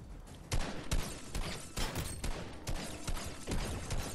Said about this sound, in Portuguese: Tem gente trocando tiro pra lá.